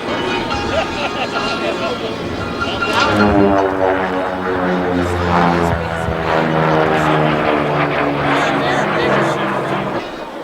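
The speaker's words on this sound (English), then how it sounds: "if you look off to the left, off the takeoff roll, Mr. Lefty Gardner, the P-38, he calls White Lightning." A P-38's twin piston engines drone at Reno air races as it starts its takeoff roll, a loud and steady throaty engine roar with rising tones under a public-address announcer speaking the whole time.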